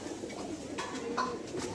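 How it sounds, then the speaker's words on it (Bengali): Soft pigeon coos sound a few times against a quiet background hum, faint and fairly close. "দুইটা কবুতর কিন্তু অনেক সুন্দর কবুতর"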